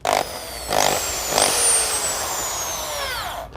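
A high-pitched Bosch electric drill with worn carbon brushes whines in short bursts, then holds a longer run whose pitch sags and falls away at the end, loud and close.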